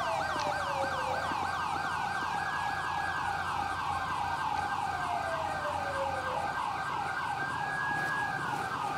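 An ambulance siren wails in Grand Theft Auto 5, a steady loud rising and falling cycle that repeats over continuous road and engine noise.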